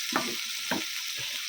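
Cumin seeds frying in hot oil, a close, steady sizzle with a few scraping stir strokes recurring at a slow rhythm, no voices.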